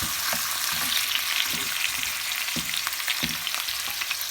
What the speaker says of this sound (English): So we're gonna saute the onions